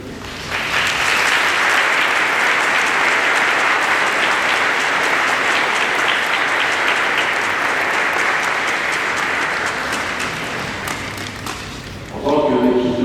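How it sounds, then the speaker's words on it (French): Loud, sustained applause fills a large church during a diocesan ceremony for catechumens, running for about ten seconds before dying away as a brief tonal sound enters. "Nous pouvons nous applaudir."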